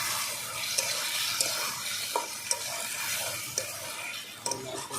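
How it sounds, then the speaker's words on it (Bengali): Large-cut new potatoes and spice paste are stir-fried in oil in a pan, giving a continuous close hiss of frying broken by regular light clicks and scrapes from stirring. "ভালো করে এক মিনিট আমি কষিয়ে নিচ্ছি"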